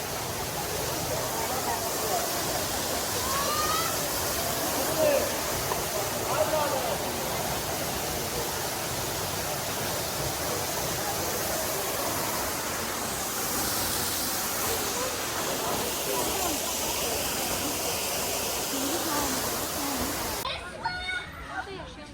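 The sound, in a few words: Shirhal waterfall in Astara, Azerbaijan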